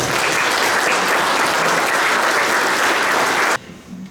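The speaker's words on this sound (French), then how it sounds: "nous pouvons les applaudir pour le travail entrepris" Loud, dense applause from an audience at a departmental congress of the French Souvenir Français association, steady for about three and a half seconds, then stopping abruptly into room tone.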